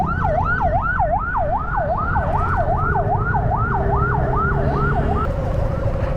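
An ambulance siren wails in a fast, repeating up-and-down pattern over the drone of street traffic on a city boulevard, then shifts to a steady tone near the end.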